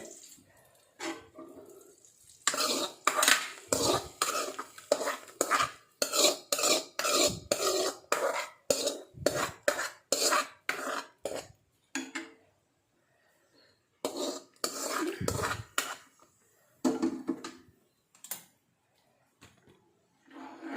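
Palak curry stirred in a pot, with repeated wet scraping and sloshing strokes in irregular bursts separated by short pauses. Close and moderately loud.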